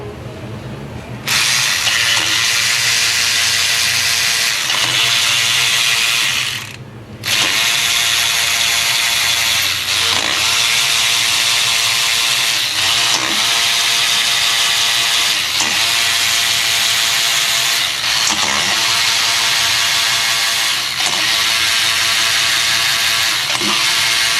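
A hand ratchet clicks steadily while 12 mm nuts are backed off a Honda engine during a valve adjustment, its rapid pawl ticks loud and close, running in bursts broken by brief pauses.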